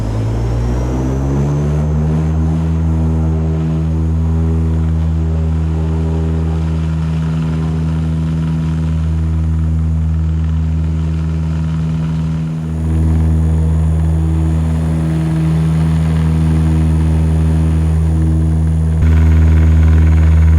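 Steady loud drone of a Lao Skyway MA600's turboprop engines heard from inside the cabin, a constant deep hum with propeller harmonics running unbroken throughout, no talk.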